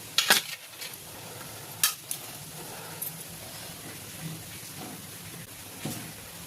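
Taro root pieces dropping into a hot, spicy tamarind curry make a soft, steady sizzle with a few sharp clinks and stirring scrapes at the start and middle, moderately close, with no voices.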